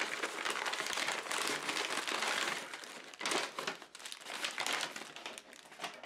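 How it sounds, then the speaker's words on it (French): Kraft paper packaging around a silicone mold being unwrapped, a continuous close crinkling and crumpling of paper with bursts of louder rustling and handling throughout, no talking. "J'aime beaucoup cette idée de petit emballage en papier craft."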